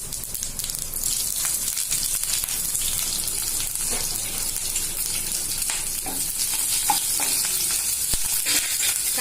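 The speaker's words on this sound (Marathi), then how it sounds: "चांगले लाल होईपर्यंत परतून घेऊ मिरची" Green chillies fry with garlic and cumin in a pan, making a constant, fairly loud crackling sizzle with occasional stirring clinks and no voices.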